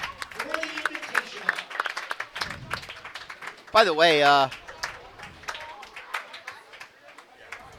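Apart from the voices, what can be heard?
audience applause for bowlers at title match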